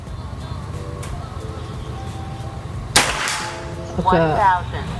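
A single sharp, loud PCP air rifle shot cracks out over steady background hum, followed by a brief metallic ring and faint movement.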